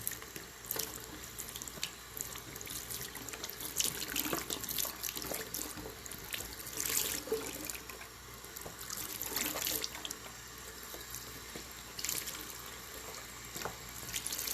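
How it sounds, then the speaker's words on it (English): Tap water runs into a sink to wet an EnviroCloth, a continuous splashing flow with shifting gurgles and surges as the cloth moves under the stream, close and fairly quiet with no talk. "And then now we are going to just simply wet our EnviroCloth with water."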